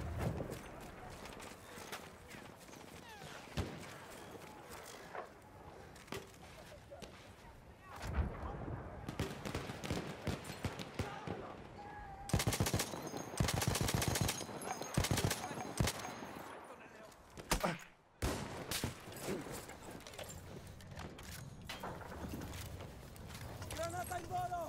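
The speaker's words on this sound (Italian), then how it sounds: "Ecco dei proiettili!" Battlefield 1 team deathmatch combat: bursts of rapid gunfire and explosions come and go over roughly twenty-five seconds, sometimes near and loud, sometimes sparse, with people talking throughout.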